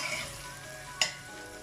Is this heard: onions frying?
yes